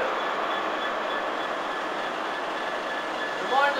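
A rare freight train stands at platform 5 of Lincoln Central station, giving off a steady, even engine drone with a brief metallic squeal rising near the end.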